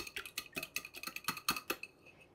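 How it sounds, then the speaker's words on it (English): Ingredients for low carb bagels being whisked with a fork in a bowl, a quick uneven run of about a dozen bright metallic clinks and taps, close and alone with no talk. "We are gonna whisk it with a fork or a whisker with energy"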